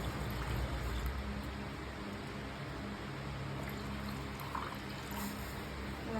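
Milk is poured into a vessel, a steady soft liquid stream with a faint splashing hiss that runs continuously at low volume throughout.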